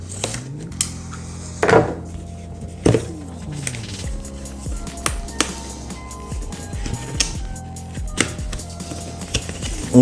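A Razer Kaira Pro wireless Xbox headset box is opened up close: scattered taps, scrapes, rustles and a few sharper knocks of cardboard and packaging handled on a surface.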